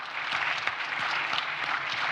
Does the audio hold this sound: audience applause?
yes